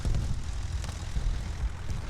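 World War One propeller plane engine in the game War Thunder, a steady loud droning buzz with no talk.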